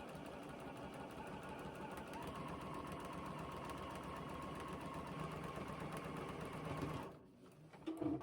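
A sewing machine stitching a gingham grid quilt seam runs in a steady rapid whirring chatter for about seven seconds, then stops abruptly, close and moderately quiet.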